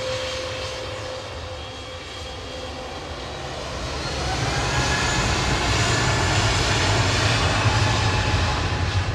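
Airbus A320neo jet at Manchester Airport, a steady broad engine roar that swells louder midway and holds, fairly close, with no voices.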